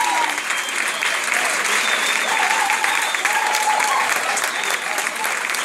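Sustained applause from a dance party audience, thick, even clapping that carries on for several seconds at a steady level, with faint crowd voices mixed underneath.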